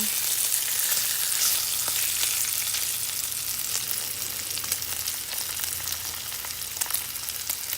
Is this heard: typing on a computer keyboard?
no